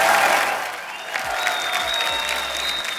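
Steady studio audience applause on a TV comedy show fills the room, dense and continuous, with a bright tone sustained throughout and a faint crowd murmur underneath.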